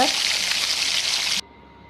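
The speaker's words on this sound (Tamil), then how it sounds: "கொஞ்சம் நாட்டு வெங்காயம் ஒரு ரெண்டு தக்காளி இதையும் போட்டு நல்லா வதக்கிடலாம்" Onions and tomatoes sautéing in a pan for a village-style field crab gravy, a steady loud sizzle that cuts off abruptly near the end.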